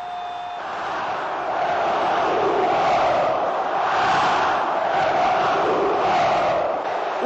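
A large football crowd roars and cheers in a stadium at the 1997 Copa do Brasil final, with a sustained, dense wall of voices swelling in waves, distant and reverberant.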